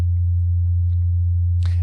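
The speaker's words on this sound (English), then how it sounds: "I have a low sine wave tone that I'll play through this plugin" A low sine wave test tone plays through a limiter plugin, holding one steady, loud, constant hum throughout with only faint clicks above it.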